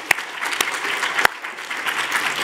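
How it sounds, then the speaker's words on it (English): An audience at a research presentation event applauds the judges, with steady, moderately loud clapping throughout and a few sharp individual claps standing out near the start. "Please give them a warm round of applause."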